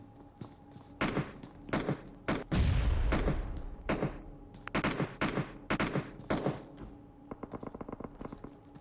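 Gunfire rings out in PUBG Mobile, rapid bursts of automatic shots in clusters with short pauses, loud and close, trailing off into lighter scattered pops.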